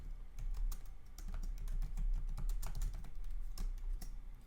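Steady run of computer keyboard typing as a short phrase is entered into a web form box, with close, crisp, irregular keystrokes over a low background hum and no voices.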